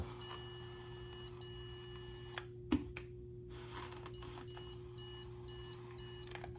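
Bursts of high electronic beeping from a handheld Zircon stud finder detecting a 2x4, on and off in short pulses with a pause midway, close by over a faint hum.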